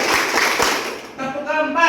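A classroom of students claps a counted rhythm pattern together, with quick loud bursts of clapping followed by a voice talking over the sound.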